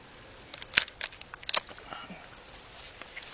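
Shears snip through date palm flower strands in a few quick, crisp cuts close by, followed by quiet rustling.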